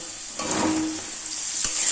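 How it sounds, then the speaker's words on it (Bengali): Oil sizzles steadily in a pan as potatoes and pointed gourd fry, with a brief scrape of stirring partway through, close and fairly loud. "আলু দুই মিনিট ভাজা হয়ে গেছে এবার কেটে রাখা পটল দিয়ে দেবো"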